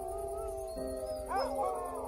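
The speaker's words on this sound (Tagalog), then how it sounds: "nagulat kami nang marinig naming umaalulong ang aso nila" A dog howls at night in a rural Philippine household: a sustained, wavering tonal howl that rises and bends near the end, moderately close and alone over a steady background hum.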